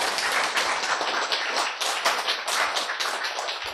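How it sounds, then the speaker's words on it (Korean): A lecture audience claps together in a dense, sustained patter of hand claps, fairly loud and even throughout, with no talking over it. "박수!"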